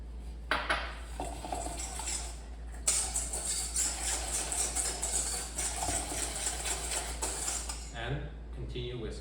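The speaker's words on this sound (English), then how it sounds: "continue whisking until sugar has melted and everything is fully incorporated" A whisk clinks and scrapes quickly and continuously against a bowl as sugar is beaten into a crème brûlée custard mixture, with a close, busy metallic rattle throughout.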